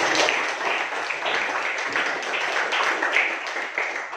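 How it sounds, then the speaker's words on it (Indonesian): Classroom applause from students for a pair of classmates, a continuous patter of clapping at moderate loudness with no talking over it. "Tepuk tangan dulu untuk pasangan."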